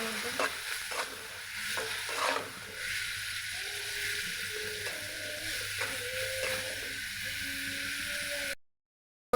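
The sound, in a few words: frying onion, salt and turmeric in oil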